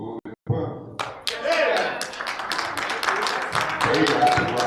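Audience members clap at a public city meeting in Flint, a loose scatter of individual claps that swells into steady, fairly loud clapping after a brief pause, with voices mixed in.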